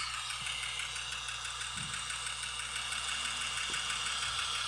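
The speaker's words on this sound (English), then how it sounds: "That sounds more like a lifter noise." An idling engine hums steadily with a fast, light ticking from a lifter running through it, a continuous mechanical tapping close by.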